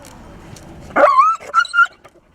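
A dog gives a few sharp, high yelps close by after another dog steps on it, two or three quick cries after a quiet stretch of background noise.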